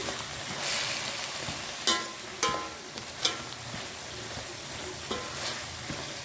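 Cabbage curry frying in a pan with turmeric, a soft continuous sizzle broken by a few sharp scrapes and clinks of a spoon stirring against the pan, close and fairly quiet.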